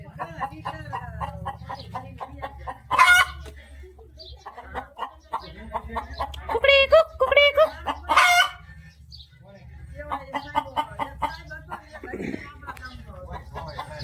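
Several roosters cluck and crow in a rural village yard, with loud nearby crows rising between busy clucking, while a person talks over them throughout.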